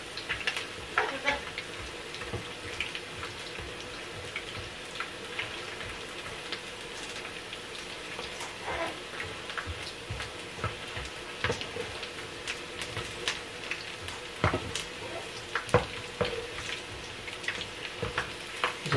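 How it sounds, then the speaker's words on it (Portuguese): Onions frying in a pan for salt cod fritters, a dense continuous crackling sizzle with scattered pops, close and even for the whole stretch, with no voices. "Deixamos queimar mais um bocadinho, também não muito queimadas, porque senão não ficam boas, mas também tem que cozer a cebola"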